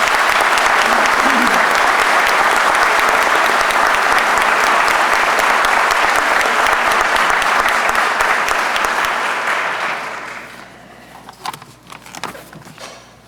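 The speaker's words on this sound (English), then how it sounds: "How about a round of applause for Class 237?" A crowd at a police academy graduation gives a loud, sustained round of applause for the graduating class, dense and even for about ten seconds before fading to scattered claps.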